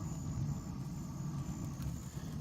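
An outdoor wood fire, lit with a little gasoline, roars steadily as it pulls in air, a continuous low rumbling whoosh that stays loud and even throughout.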